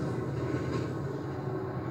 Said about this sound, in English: At that very moment, one of these Frankenstein trains creeps up behind them.